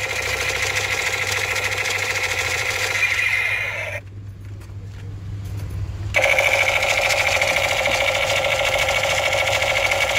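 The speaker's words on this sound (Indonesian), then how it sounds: "Untuk menyalakan bunyi serta lampunya, kita tekan pelatuknya." A battery-powered toy pistol with lights and vibration buzzes and whirs loudly and continuously with its trigger held, its droning tone cutting out for about two seconds midway before resuming.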